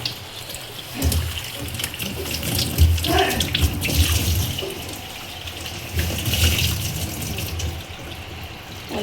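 Tap water runs steadily over fresh mint and coriander leaves being washed in a kitchen sink, with splashing surges as the leaves are handled under the stream; no one speaks.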